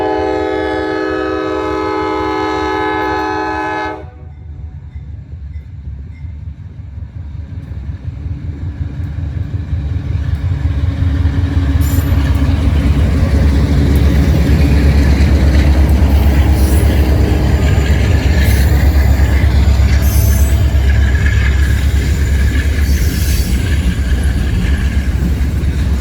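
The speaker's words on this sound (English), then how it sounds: "Sure am glad to see that locomotive still being used" A GE B36-7 diesel locomotive leads EMD units hauling a freight train uphill. A piercing multi-tone horn blast gives way to a loud, building low engine roar and rumbling cars that grow steadily as the train notches up and passes close by.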